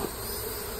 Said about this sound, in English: The swarm is right here.